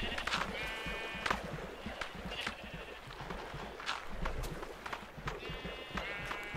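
Several short, nasal sheep bleats from the video game Minecraft, spaced irregularly over a busy background of clattering steps and soft ambient noise, some near and some a little farther off.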